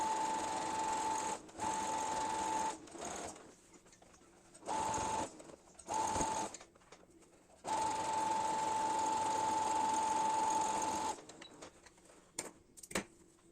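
A sewing machine runs in bursts, stitching hems along the sides of a co-ord set pant, steady whirring runs of a few seconds broken by pauses, then a long continuous stretch, close and fairly loud with no talk.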